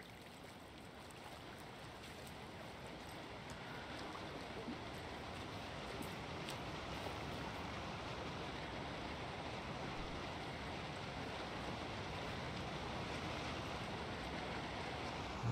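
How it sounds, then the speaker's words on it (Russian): A waterfall in the video game Alan Wake 2 gives off a constant, moderately loud rush of falling water, an even hiss with no gaps that carries through the whole stretch with no one talking over it. "Это водопад."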